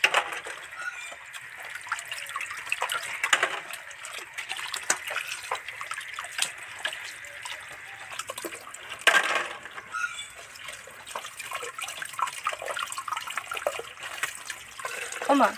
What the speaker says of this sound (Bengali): হু উ করে জল পড়ছে কাঁকড়াগুলো এইভাবে একটা একটা করে আগে সবার আগে পরিষ্কার করে ধুয়ে নেব